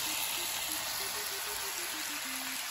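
Seafood and meat sizzle as they fry, giving an even, close hiss of spitting fat that carries on without pause at moderate loudness, free of any speech.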